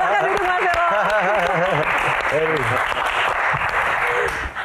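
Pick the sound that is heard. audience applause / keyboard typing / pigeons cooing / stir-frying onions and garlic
audience applause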